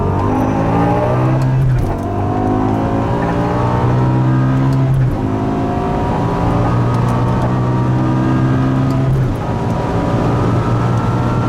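An 800 HP supercharged BMW M5 V10 revs hard from 60 km/h on the German Autobahn through several gear changes, pitch climbing steeply then dropping at each shift, loud and close with no talking.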